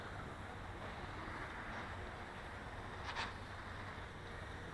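An outdoor breeze gusts across the microphone during a toy Air Hogs Jetpack Hero flight, a faint steady rush of wind noise with a brief brighter flutter near the end and no talking.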